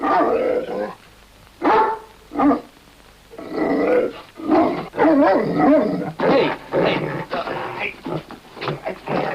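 A dog barks in short, loud bursts and yips during obedience training on a film set, with a person's voice giving commands between the barks.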